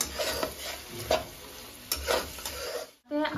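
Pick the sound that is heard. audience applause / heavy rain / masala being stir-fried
masala being stir-fried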